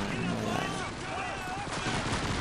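Video game gunfire makes dense, continuous bursts of shots and explosions that fill the mix at a loud, steady level, with voices talking over the top.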